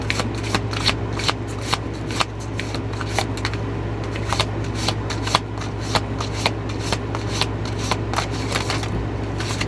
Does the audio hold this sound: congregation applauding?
no